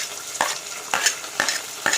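Onions frying with garlic in a pan, a continuous close sizzle broken by four evenly spaced scraping stirs, loud and without talk.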